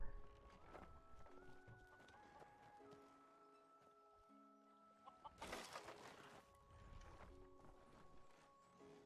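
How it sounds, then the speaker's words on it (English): Chickens clucking at a farm with a greenhouse in Skyrim Special Edition, faint clucks over quiet game music with steady tones, plus a brief noisy rustle midway. "Chickens."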